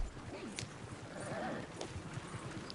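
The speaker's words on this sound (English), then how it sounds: "another horse riding like gameplay segment" Horse hooves clopping during a ride in Red Dead Redemption 2, a soft rhythmic clip-clop under a faint ambient bed and a quiet voice.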